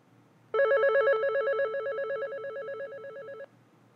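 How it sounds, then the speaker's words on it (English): Electronic ringer tone from a Panasonic KX-TGM450S cordless phone handset, a steady warbling two-tone trill sounding continuously for about three seconds, close and clear with the level stepping down gradually. "If we press the volume button, we can set the ringer"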